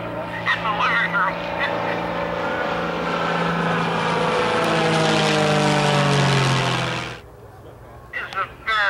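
A homebuilt propeller airplane flies at a Fourth of July airshow, its steady engine drone loud and sustained before cutting off abruptly, with a voice talking over it.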